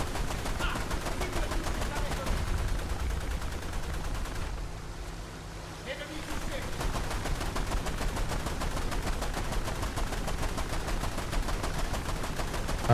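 Rapid, continuous machine-gun fire from boats in a naval combat game, loud, dense bursts running almost the whole time with a brief lull midway, under occasional talk.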